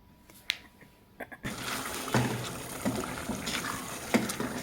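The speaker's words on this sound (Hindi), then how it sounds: "अब मैं इसमें थोड़ा सा पानी डाल के इसमें कोफ्तों को मिक्स करूँगी।" Water is poured into a pan of chicken kofte and potato curry, a soft splashing trickle after a few light clicks, then a steady low sizzle and bubble at close range with no talking.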